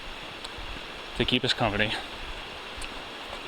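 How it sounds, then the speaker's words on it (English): A roaring mountain brook along a Maine trail near the Appalachian Trail crossing gives a steady broadband rush of flowing water throughout, with someone speaking briefly over it in the middle. "Got the sounds of a roaring brook"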